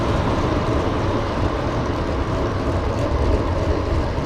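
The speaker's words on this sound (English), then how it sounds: "Oh, I hear the Metrolink light rail train." A steady, loud rumble of a St. Louis Metrolink light rail train rolling past nearby in University City, broadband and continuous with no voices.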